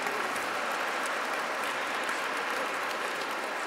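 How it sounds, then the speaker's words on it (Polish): Sustained audience applause fills a church after a choir's debut performance at Mass, a steady, even wash of many hands clapping with no break and no talk over it. "Prosimy o brawa."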